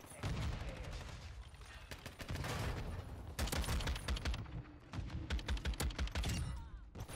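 An automated turret in Modern Warfare 2 fires dense, sustained automatic bursts with brief gaps, loud and close, heavy with overlapping shots and battle noise.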